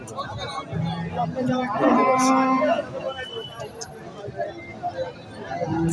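Bulls lowing a few times amid a busy outdoor cattle market crowd, with people talking nearby throughout.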